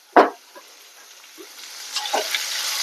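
Onion frying in a pan with a little salt, a soft hiss under a sharp stirring scrape at the start, then a few faint clinks as the sizzle slowly builds.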